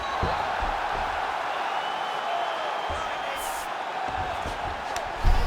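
Arena crowd noise from the EA Sports UFC 5 video game during a Khabib Nurmagomedov vs. Caio Borralho bout, a steady roar of murmuring and cheering that swells slightly near the end, with faint thuds underneath.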